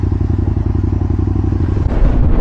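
Engine of a 2004 Aprilia RSV1000R motorcycle starting up, a loud, close, rough idle with a rapid pulsing rumble that swells into a heavier burst near the end.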